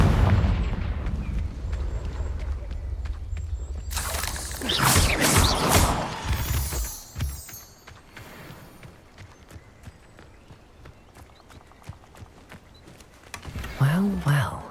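Confringo blasting-curse explosions in the game Hogwarts Legacy, heavy booming bursts around the middle followed by scattered crackling impacts and a fading rumble, with another loud burst at the end.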